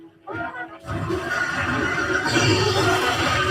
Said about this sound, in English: You can see a giant elephant up there fighting a horse demon.